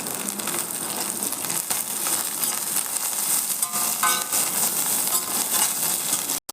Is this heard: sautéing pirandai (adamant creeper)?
yes